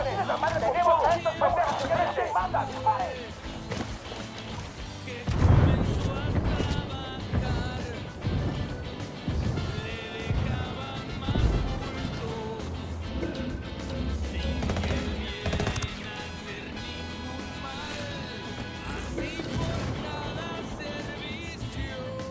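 Indirect fire and gunfire in the military shooter game Ghost Recon Wildlands, with heavy booms and bursts of shots mixed in with in-game radio chatter and voices talking over the action.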